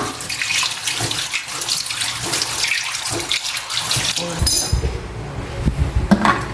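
Tap water runs steadily into a sink during washing, a close, continuous splashing stream with clinks of dishes toward the end.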